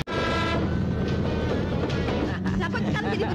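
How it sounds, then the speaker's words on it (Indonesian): A loud, continuous rumble and rattle of a train rushing past close by, with a horn-like tone near the end. "Dokter, awas kereta dokter."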